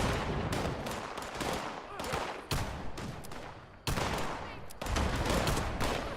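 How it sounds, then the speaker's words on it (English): Grenade explosions in the game Fallout 76 burst in a rapid series of loud, sharp blasts, several overlapping, with rumbling tails between them and no talk over them. "Oh yeah, who's throwing grenades?"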